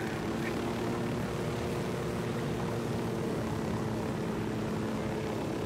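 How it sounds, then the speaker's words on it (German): Helicopter in the video game Ghost Recon Wildlands, a steady loud rotor and engine drone holding evenly from start to finish with no talk over it. "da ist wieder ein Unidad-Hubschrauber"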